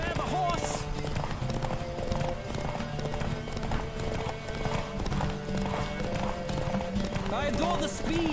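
A horse gallops in The Witcher 3, quick steady hoof clatter with a whinny, accompanied by music and a voice talking over the hoofbeats.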